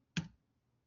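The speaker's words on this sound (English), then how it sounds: "I'm going to double click and type name" A single sharp computer mouse click, close and clear, followed by quiet.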